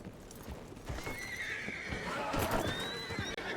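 A horse in a roleplay video game lets out a long, loud whinny with clopping hooves beneath it, set against a dense, noisy background.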